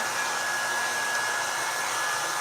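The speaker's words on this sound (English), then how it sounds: "when the section gets warm, I just move the dryer" A hair dryer blows at a steady, loud whir with a faint high whine while styling and blow-drying a section of hair, close and continuous with no talk.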